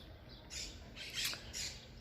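Birds squawking and chirping outdoors, a few short bright calls in quick succession at moderate distance over a low background hum, no talk.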